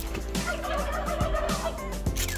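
Turkeys on a poultry farm gobble in repeated rattling bursts, several birds calling close by in a steady flock din with no voices.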